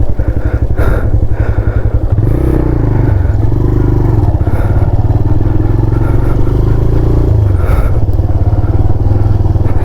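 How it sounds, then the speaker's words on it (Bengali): A luggage-loaded 125cc TVS Raider motorcycle idles and putters loudly up close while being turned around on a narrow road, its engine note wavering with light clatter and scraping throughout. "আর এই রাস্তা থেকে লাগেজ ভর্তি বাইক ঘোরানো একটা বিশাল ব্যাপার"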